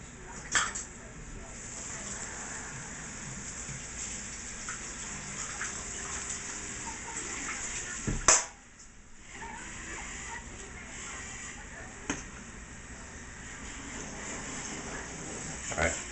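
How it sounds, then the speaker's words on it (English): Water pours steadily into a cooking pot during a backyard BBQ cook, a continuous close hissing gush with a brief break near the middle, and no talk over it. "Add a little water, added a couple of, so it needs about another cup of water"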